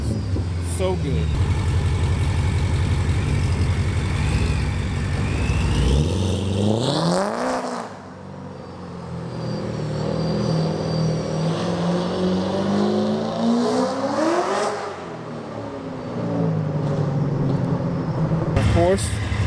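A 640 whp procharged C7 Corvette Stingray accelerates hard on the road, its engine roaring up through the revs in long sweeping pulls with gear-change dips between them, loud and close from inside the car, with a person talking over it.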